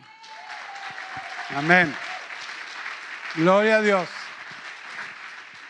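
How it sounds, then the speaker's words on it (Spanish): Applause from a church congregation during a sermon, a steady broadband clapping wash running under loud amplified voices speaking and calling out. "Dale un aplauso a Cristo"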